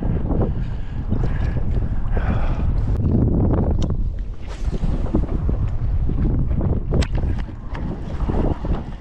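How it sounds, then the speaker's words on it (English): Strong wind gusts buffet the microphone on a lake during winter bass fishing from a boat, a steady roaring rumble with some water movement and no talk. "the wind's blowing like 10 mile an hour out of the south"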